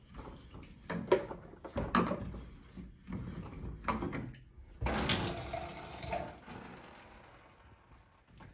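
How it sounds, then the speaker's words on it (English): Water gushes in a steady stream from a shower pipe while a Kohler Adjuste 3-in-1 multifunction shower head is being fitted, preceded by scattered clunks and handling knocks, with the loudest rush of spray near the end. "Be mindful of the stream of water because I'm now wet."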